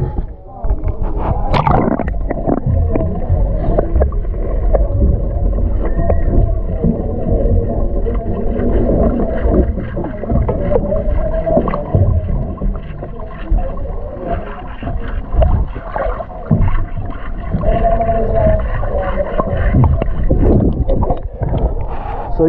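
Wooden Philippine fishing boat running on two engines with two propellers: a continuous low, rumbling drone close to the microphone, churning with wind buffeting and water noise, with occasional voices in the background.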